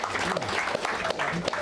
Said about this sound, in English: let's give a round of applause for Sathyu from all the